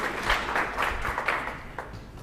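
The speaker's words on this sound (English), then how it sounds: "Clap for him." Workshop audience clapping for a presenter, a moderate burst of applause with distinct claps standing out, fading slightly toward the end.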